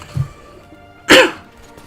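A single hoarse cough bursts out close to the microphone, preceded by a faint low thump, in an otherwise quiet pause of a strategy-game commentary.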